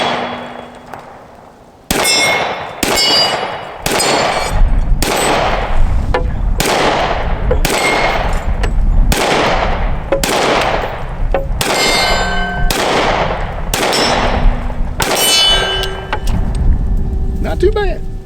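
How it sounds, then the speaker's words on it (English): A Smith & Wesson M&P Compact pistol fired outdoors: about a dozen sharp, loud, close gunshots in a steady series roughly a second or so apart, each with a short ringing tail. "let's go ahead and shoot this again with this size mag."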